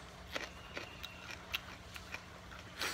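A raw jalapeño pepper is bitten and chewed, giving a series of sharp, crisp crunches at uneven intervals, close and fairly quiet, with a louder crunch at the end and no talking.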